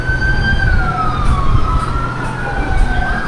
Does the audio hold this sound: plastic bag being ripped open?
no